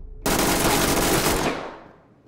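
A single loud, sustained burst of extremely rapid machine gun fire in the tactical shooter game Ready or Not, starting abruptly and then trailing off in a fading echo, with no talking.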